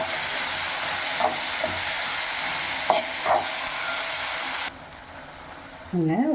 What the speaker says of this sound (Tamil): தக்காளியும் நல்லா குழைய வரட்டங்க வதங்கணும் இது கூடவே கல்லுப்பு சேர்த்து வதக்கி விடுவோம்